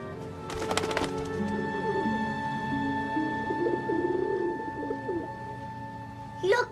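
Pigeons kept by a family coo softly in a low, burbling rhythm through the middle of the scene, with a sharp clatter near the start and steady background hum beneath.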